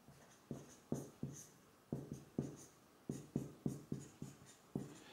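A pen scratches across paper in short, rhythmic strokes, about a dozen quick scribbles with brief pauses between groups, close and quiet with no talk.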